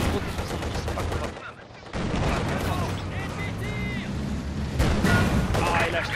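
Gunfire in Company of Heroes 2, a World War II strategy game: bursts of shots and rattling fire keep going throughout, with a brief lull partway, under steady talk from a player.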